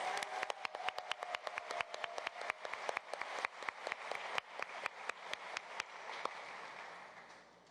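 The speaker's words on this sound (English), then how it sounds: "nice round of applause." Scattered audience clapping at a New York City public schools State of the Schools address, a steady patter of individual claps heard from a moderate distance without voices.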